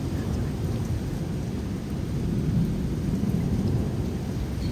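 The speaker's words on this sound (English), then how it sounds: "The thunder is just constantly roaring." A thunderstorm in Plano, Texas rolls on with deep, continuous roaring thunder under a steady wash of falling rain, loud and sustained, swelling slightly midway, with no clear speech.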